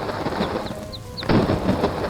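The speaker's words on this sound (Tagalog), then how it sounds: "Sobrang lakas ng bagyo!" A heavy cartoon storm roars with thunder and steady pouring rain, a loud rumbling burst hitting midway over the continuous downpour, with no voices.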